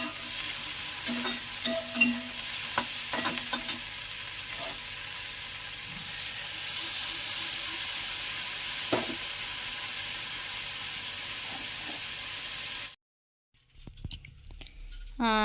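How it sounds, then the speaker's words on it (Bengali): A ginger and garlic paste with cumin, turmeric, coriander and chili powders fries in a pan in a loud, continuous sizzle, with clinks and scrapes of a stirring spatula, before it stops and faint clattering follows. "আর দেখো আমার তো মশলা কষানো হয়ে গেছে"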